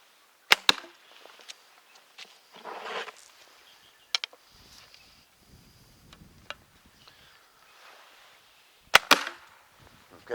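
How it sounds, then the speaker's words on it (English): Arrows strike a foam archery target at close range: several sharp, distinct thwacks spread irregularly across the stretch, with one arrow hitting another already in the target, and quiet gaps between hits. "that one hit the other arrow"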